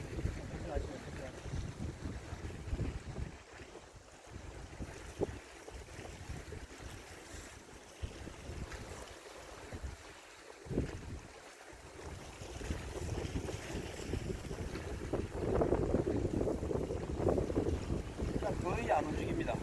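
Wind gusts roar over open water during autumn black porgy fishing off Namhae, Korea, a loud, steady rush mixed with waves lapping and boat noise throughout.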